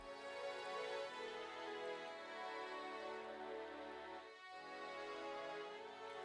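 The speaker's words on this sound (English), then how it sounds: "Then I backed it up with these strings from Expand, which sound like this." Layered synth strings from the Expand plugin play a sustained melody in an FL Studio piano-melody beat, full and continuous with a brief dip partway through, no voices.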